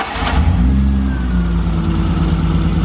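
A BMW E30's engine runs loud and close, settling from a brief rev into a steady, throaty idle-like rumble.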